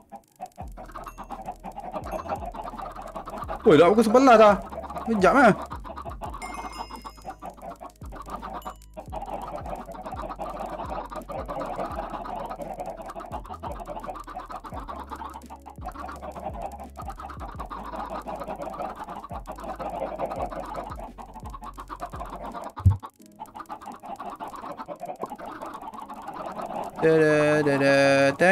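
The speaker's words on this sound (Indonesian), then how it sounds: "Bagi makan ke ayam sikit." Minecraft chickens on a farm clucking repeatedly over a long stretch, with a loud flurry of clucks early on and steady quieter clucking afterward, while someone talks briefly.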